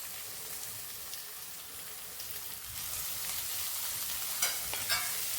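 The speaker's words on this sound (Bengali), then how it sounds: "এবার এই পেঁয়াজটাকে একটু লাল লাল করে ভেজে নিতে হবে" A steady, hissing sizzle of chopped onion frying in hot oil, with a few scrapes of stirring toward the end.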